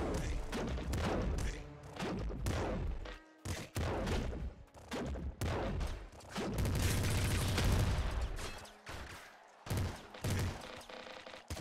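Rapid gunfire from the top-down shooter Nuclear Throne, dense bursts of shots and thuds in a fast barrage broken by short pauses, loud and continuous over most of the stretch.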